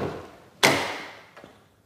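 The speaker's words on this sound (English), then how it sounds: "And if I open the door" A single sharp click and thunk as a Nissan GT-R car door unlatches and swings open, followed by a faint second tap, no voices.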